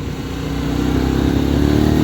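A Lifan Lion 125cc motorcycle being ridden and accelerating in second gear, its engine drone building steadily louder and rising in pitch over two seconds, close and continuous.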